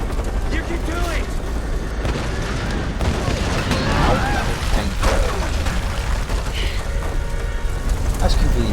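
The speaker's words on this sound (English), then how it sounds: "she set off a few explosions" Explosions go off in a video game as a dense run of booms and rumbling blasts with crackling debris, loud and sustained, mixed with other game effects throughout.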